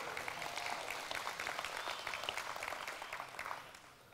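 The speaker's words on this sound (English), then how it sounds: "Can we give them a round of applause?" A church congregation breaks into sustained applause for the worship band, a dense, even wash of clapping filling the sanctuary at moderate loudness.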